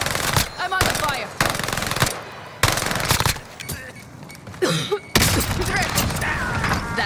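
Rapid bursts of automatic gunfire from Call of Duty Warzone on Rebirth Island, loud and close, arriving in repeated volleys separated by short pauses, with a voice talking briefly between them.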